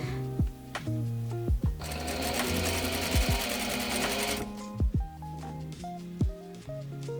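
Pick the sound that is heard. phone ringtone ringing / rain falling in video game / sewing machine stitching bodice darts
sewing machine stitching bodice darts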